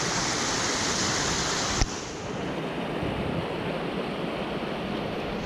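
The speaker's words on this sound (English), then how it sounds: "Massive amount of water." A swollen river in flood rushes past with a constant heavy roar, broken only by one brief click partway through. The torrent stays near and unvarying, and no one speaks.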